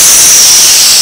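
Air rushes out of a tubeless tire in a loud, steady, close hiss that holds unbroken throughout.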